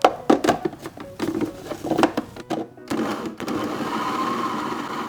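Blender whirring gotu kola leaves with water, irregular clattering and chopping bursts first that settle into a steadier, continuous blending roar, close and fairly loud.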